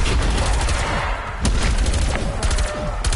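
Explosions from a PlayStation 5 video game burst in rapid succession, with repeated sharp booms and crackling blasts, loud and close, in a dense volley.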